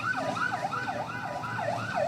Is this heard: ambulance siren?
yes